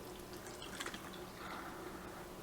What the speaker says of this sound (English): You take half a cup of water and you pour it